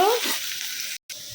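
Sliced potatoes fry in oil in a home kitchen pan, giving a brief, steady hiss close by. A voice talks briefly at the start.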